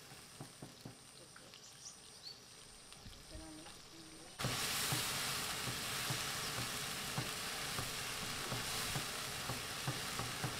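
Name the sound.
spice paste frying in a pan for chicken wings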